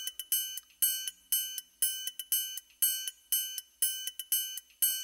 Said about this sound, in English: But we've got this triangle, which again is a loop.